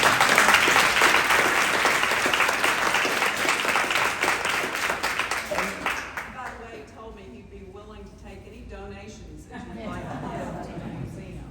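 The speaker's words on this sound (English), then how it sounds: "let's give him a round of applause" Audience applause for Isaac Settle at a women's equality meeting, a strong burst of clapping that fades out after about six seconds, followed by quieter talking.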